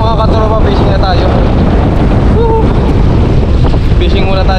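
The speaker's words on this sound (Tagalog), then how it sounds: "Tapos tayo mahangin." Wind at sea during a fishing trip on a boat buffets the microphone in a loud, constant roar, with someone talking over it at intervals.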